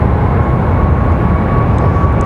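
A Southwest Boeing 737 MAX 8 departing Raleigh-Durham International gives off a loud, close, continuous jet engine roar with a thin steady whine running through it.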